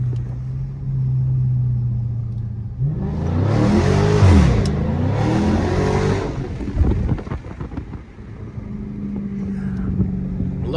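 A Dodge SRT car idles low and then accelerates hard in city traffic. There is a loud rising roar that swells for a few seconds, eases off and then drops back to a rumbling idle.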